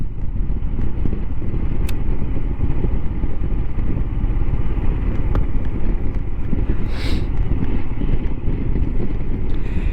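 A Royal Enfield Himalayan motorcycle cruising on an evening ride, its engine a loud, continuous low rumble mixed with heavy wind buffeting on the microphone, steady throughout with no voices.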